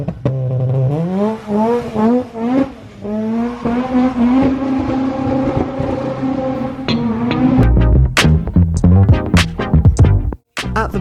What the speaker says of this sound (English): Ryan popped along today bringing his over 400 brake horsepower Rotrex powered EP3.